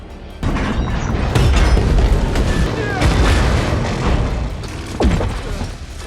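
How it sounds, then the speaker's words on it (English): Tanker trucks exploding in a film scene, heavy booming blasts chaining one after another with rumbling roar and crashing debris, loud and close, while a narrator talks over them. "The violent explosion triggered a chain reaction in which the two tankers behind it were also ignited and detonated."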